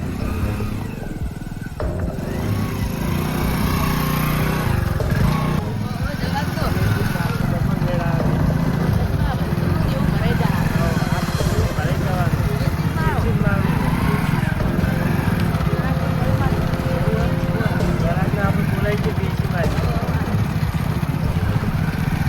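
A motorcycle engine sputters to life and then runs with a loud, steady rumbling idle that continues throughout, close by and unbroken.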